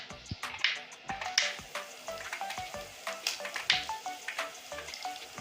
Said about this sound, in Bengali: আর এখানে আমি আলুটা এখন উল্টিয়ে দিচ্ছি